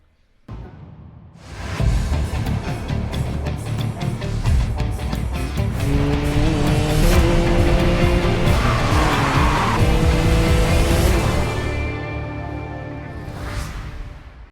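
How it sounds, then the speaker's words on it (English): A 1989 Nissan Skyline GT-R R32 in the Racing Master game, its engine revving hard and rising in pitch while tires squeal and skid through a sustained run, loud and close, fading near the end. "the 1989 Nissan Skyline GT-R R32"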